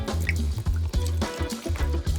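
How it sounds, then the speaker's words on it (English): Hot water pours onto a large dish of noodles and seasoning, a close, steady splashing fill with brief gurgling breaks and no voices. "And now I add some hot water."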